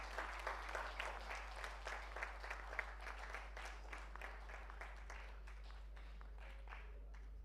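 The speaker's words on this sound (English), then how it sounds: "Take a big round of applause to all of them." A crowd applauds steadily with dense, even clapping that slowly thins out toward the end, heard over a low constant hum.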